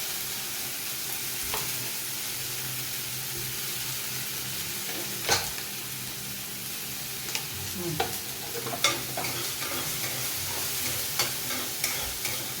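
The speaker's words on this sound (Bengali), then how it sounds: "তেল ভাজতে আরম্ভ করে দিয়েছে।" Oil frying in a pan with turmeric, salt and a ground paste for a kokum-mustard katla fish curry: a continuous close sizzle with occasional sharp spatula scrapes and taps, no voices.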